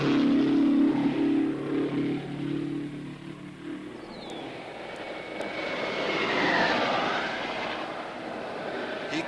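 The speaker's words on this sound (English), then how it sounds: "The 42-year-old professor of racing shows the rookies how to take 4 smooth laps at high speed." Race cars lapping at high speed in the 1963 Indianapolis 500 pass by, one engine roaring in loud and then sweeping away with a falling whine, heard alone on a slightly hissy old recording.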